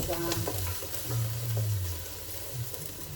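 Mexican rice stirred in a hot pan, a continuous close sizzle with scraping spoon movements, while a voice murmurs faintly in the background.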